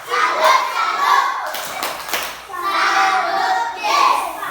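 Children in an Indonesian primary classroom clap in rhythmic bursts while chanting together, loud and close, in two main sections split by a short lull with scattered claps.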